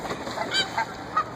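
Geese honking in a short series of three or four calls, moderately close, near water, with no talk over them.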